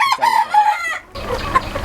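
A rooster crows loudly and close at a fancy poultry farm in Shajahanpur, Bogura, that keeps Silkie and other breeds; hens cluck and mutter right after the crow.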